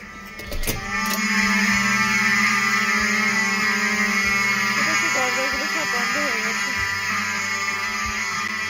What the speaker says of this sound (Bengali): তো যেহেতু তখনও ফায়ার অ্যালার্মটি বেজেই যাচ্ছিল